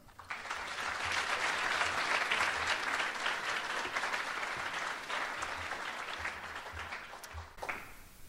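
An audience at a teen safe driving summit applauds steadily to welcome a speaker to the stage, a dense, even wash of clapping that holds for several seconds and then fades.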